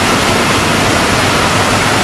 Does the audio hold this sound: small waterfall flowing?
yes